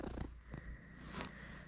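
A house cat purrs up close in a soft, continuous rumbling rhythm, quiet and intimate, with no talking.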